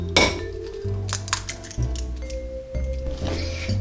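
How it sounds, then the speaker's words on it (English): Three eggs are cracked in a kitchen, giving several sharp taps and clinks of shell on a bowl among wet squishes and brief background tones, with no talk. "Now we're going to crack 3 eggs."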